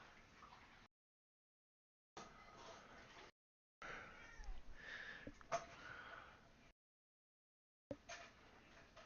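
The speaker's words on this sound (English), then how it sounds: "Cat's bugging me again to get his back rubbed." A pet cat asking to have its back rubbed gives soft, close meows and sniffing snorts in short bursts separated by gaps of silence, faint and intimate.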